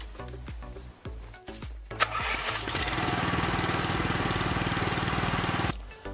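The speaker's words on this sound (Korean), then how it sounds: "이제 한번 관리기 시동을 걸어보겠습니다." Walk-behind cultivator engine after a battery replacement: several short starter cranks, then the small engine catches and settles into a steady, rapid idle chug before cutting off.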